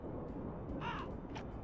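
In the video game Tomb Raider III, a bird gives a short cawing call, then a fainter second one, over a steady low background drone of game ambience.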